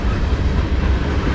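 CSX freight train M404, a manifest hauling mixed cars, rumbles past close by with a heavy, steady low roar and wheel noise, no voices.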